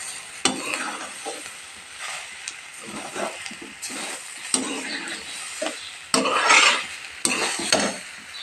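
A spoon scrapes and stirs carrot palya seasoned with sugar and salt as it fries in a pan. Irregular close strokes and soft sizzling come and go, with a louder burst of scraping near the end.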